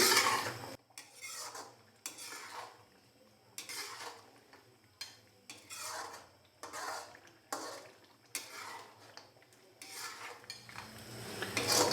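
A spoon scrapes and clatters against a pot as mutton karahi masala is stirred and fried in oil, in repeated rhythmic strokes with a faint sizzle underneath and no talking.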